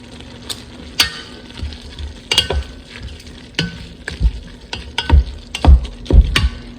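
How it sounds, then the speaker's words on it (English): Diced onions added to browning ground meat in a pan, sizzling under irregular scraping and knocking of a spatula against the pan, close up with no voices. "I'm gonna add some onions that I had in the freezer that I had already diced up."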